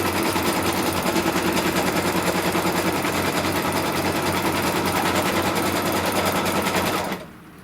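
An embroidery machine stitches a small placement line at the center of a Blossom Pin Cushion project, its needle hammering in a fast, steady, close-up chatter that runs unbroken for about seven seconds before stopping abruptly.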